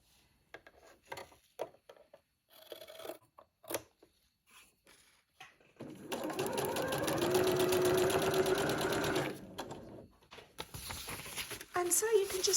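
A sewing machine stitches fabric strips into scrappy tape, whirring steadily for a few seconds after some quiet handling and rustling of fabric, then stopping as light handling resumes.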